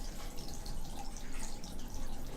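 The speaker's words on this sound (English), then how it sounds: "now the tank is siphoning." Water siphons out of an aquarium tank through a cheap DIY water changer, making a steady rushing, trickling flow of liquid. The sound is continuous and close, with no talk.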